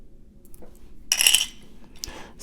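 Table cut glass edged beads clink together in a brief bright rattle, close and moderately loud, followed by a faint second tinkle against a quiet background.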